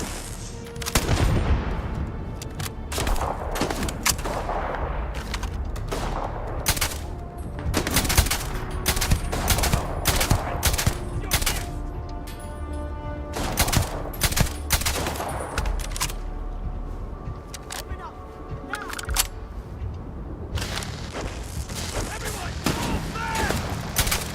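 Gunfire in the video game Starfield during a bounty-hunting fight, repeated sharp bursts and rapid shots in clusters, loud and close, with game voices between volleys.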